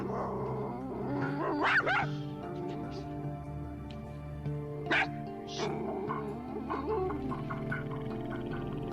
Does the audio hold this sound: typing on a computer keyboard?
no